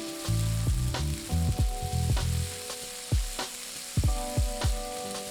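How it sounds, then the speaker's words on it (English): Shrimp and garlic stir-fry in a hot pan, a quiet sizzle punctuated by repeated sharp clanks and scrapes of a utensil against the metal, several strikes in quick succession, with no voices. "Add shrimp and stir for 30 seconds enough"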